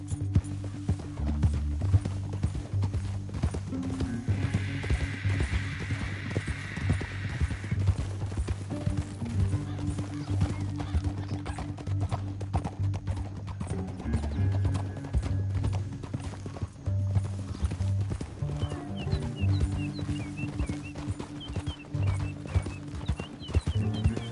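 Rhythmic clip-clop of horse hooves galloping steadily in a PS4 video game, with an occasional whinny and a low droning music bed underneath.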